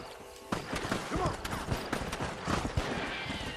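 Horse hooves clip-clopping in the western video game Red Dead Redemption, a quick uneven run of knocks near the listener mixed with creaks, under brief talk.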